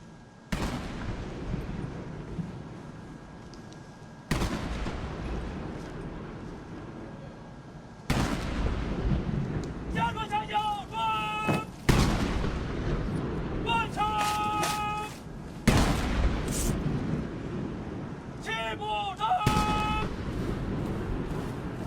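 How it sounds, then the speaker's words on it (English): An 80-gun artillery salute fired at a military parade marking the 80th anniversary of victory in the War of Resistance: heavy booming reports recur every few seconds, loud and reverberant, over a continuous crowd and band backdrop. "An 80-gun salute is fired to mark the 80 years since the victory of the War of Resistance."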